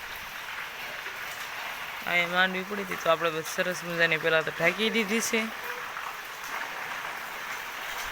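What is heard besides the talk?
rain dripping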